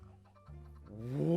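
A chicken from the video game Minecraft gives a short, close, tonal cluck, followed by a rising burst of noisier game sound near the end.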